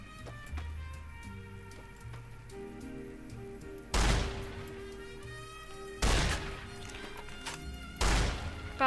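Three heavy, booming gunshots from Fallout: New Vegas strike at spaced intervals, each a loud broadband blast with a short decaying tail, over a quieter game backdrop of faint music and ambience.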